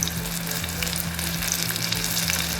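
Chicken popcorn pieces fry in hot oil with a dense, steady crackling sizzle close up, loud and constant throughout with a low hum underneath and no voices.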